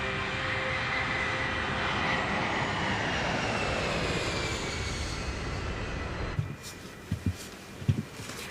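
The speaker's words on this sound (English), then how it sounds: "I can see the other planes are taking off." Jet airliners roaring as they take off from an airport runway, a loud continuous engine rumble and whine that holds steady, then cuts to a quieter cabin with a few faint thumps.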